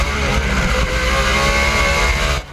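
About 10,000 horsepower of off-road race trucks, fifteen wide at roughly 107 mph, roar into the first turn at Crandon in a loud, continuous engine blare that drops off sharply at the end.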